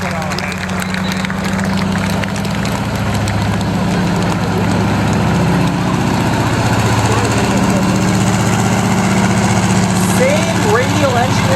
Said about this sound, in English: Radial engine in there, aircraft engine, the 9-cylinder Continental 975.